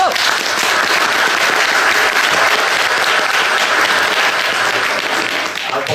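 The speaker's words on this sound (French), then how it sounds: "sous vos applaudissements" A theatre audience at a Théatro Château-Thierry show gives sustained, dense applause as the troupe's president is welcomed on stage, many hands clapping loudly and continuously throughout.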